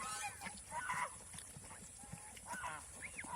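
Geese honk in short nasal bursts while feeding on paddy rice in the rain, several calls scattered across the clip at low level over a soft, steady wet background hiss.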